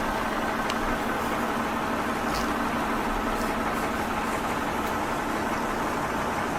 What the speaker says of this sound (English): You could hear the car engine running